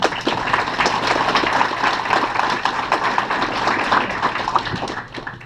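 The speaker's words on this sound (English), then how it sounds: "let's give a round of applause to all of them" Audience at a drag racing event applauding the sponsors, a continuous patter of many hands clapping with a few sharper taps, tapering off at the end.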